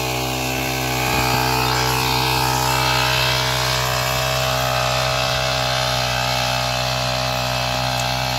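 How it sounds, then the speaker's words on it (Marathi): A soybean spray machine's engine runs steadily while moving through thick mud in a farm field, giving a loud, continuous droning hum with no break and no voices. "एवढ्या चिखलामध्ये सुद्धा मशीन चलत आहे."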